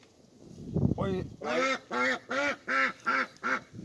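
A pet duck quacks close by in a rapid, even series of about seven loud nasal quacks after a brief lead-in, with the rhythm steady from start to finish.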